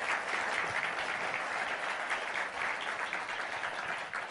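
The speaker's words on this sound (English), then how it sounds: "he needs a huge round of applause" An audience at an ocean conservation conference applauds Secretary Kerry with steady, dense clapping that fills the room, fairly distant and even throughout, with no talking over it.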